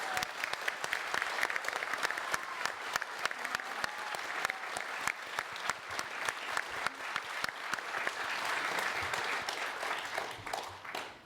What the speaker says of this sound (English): let's have a round of applause for all of our candidates.